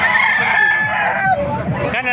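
Roosters at a gamecock market in Calumpit, Bulacan crow loudly and close, overlapping calls layered with clucking and murmurs from nearby fowl.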